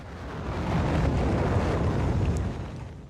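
Rocket launch in the factory game Factorio, a broad roaring rumble that swells in over the first second, holds steady and loud, then eases slightly toward the end, with no voices.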